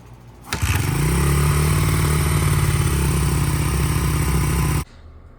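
A Honda XR80 motorcycle engine running after a carburetor cleaning, a steady loud close-up drone that starts abruptly, holds with a slightly uneven throb for about four seconds, then cuts off.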